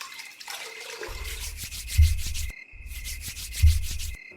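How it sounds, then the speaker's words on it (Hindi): A water-soaked cloth is rubbed over palms and feet as a Hindi horror audio drama effect, with two close, rhythmic bursts of scrubbing strokes separated by a brief pause. "फिर एक कपड़े को पानी में भिगोते हुए प्रत्यक्षा के हथेलियों और पांव में उस पानी के कपड़े को रगड़ने लगा"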